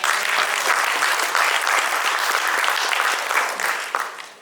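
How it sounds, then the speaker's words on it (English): Loud, sustained applause from a large audience, a dense wash of clapping that holds steady and starts to fade near the end. "Give him a big clap."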